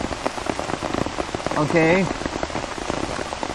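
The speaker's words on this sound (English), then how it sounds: "I've had 2 raindrops come through my umbrella pretty substantially" Hard rain pounds an umbrella near Lake Norman in Mooresville, North Carolina, a thick continuous patter of close drops, while someone briefly speaks a word in the middle.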